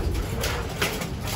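Racing pigeon cooing in a loft, a soft low murmur that runs steadily under broadband background noise for the whole short moment.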